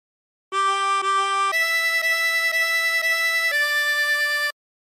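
A 24-hole tremolo harmonica plays a phrase of The Yellow Rose of Texas as a short run of sustained, steady notes that shift in pitch, each one clear and alone against silence.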